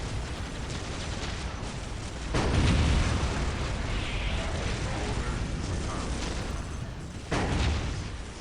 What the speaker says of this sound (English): Orbital bombardment keeping these Guardsmen away